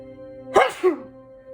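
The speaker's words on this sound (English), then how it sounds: "Excuse me, about to sneeze." A single close, sharp sneeze with a short second burst bursts out over a quiet background during a tarot reading.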